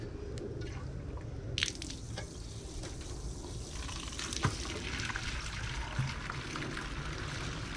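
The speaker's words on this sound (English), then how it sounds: "Let that water run in there for a minute." Water pours and runs out of a rig while it is rinsed of abrasive Pink Power cleaner, a close, continuous splashing trickle with scattered drips and a few brief louder clatters.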